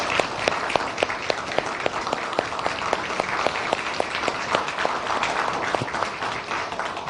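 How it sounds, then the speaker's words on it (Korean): A church congregation applauds its choir steadily, with some rhythmic unison clapping standing out amid the dense, continuous claps. "격려의 박수 하겠습니다."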